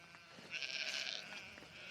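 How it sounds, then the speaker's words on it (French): A sheep bleats close by for about a second, one high wavering cry from a flock following a person on foot in open pasture, over a low steady background hiss. "Il y a des moutons qui me suivent et qui me causent."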